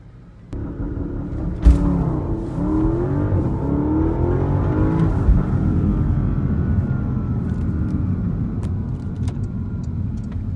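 A Porsche Panamera Turbo S E-Hybrid Sport Turismo launches hard, its loud engine rumble and rising roar building steadily and holding strong as the car pulls away, with no voices over it.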